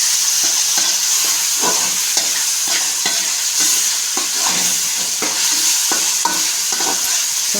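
Beans and softened vegetables being stirred in a pan for semiya upma: loud, close sizzling under a rhythmic series of spatula scrapes and clacks repeating roughly every half second.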